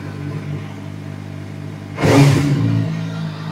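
A CF Moto 500 SR motorcycle idles quietly, then gives one short, sharp throttle blip that rises loudly and settles back to a steady idle, with no talking.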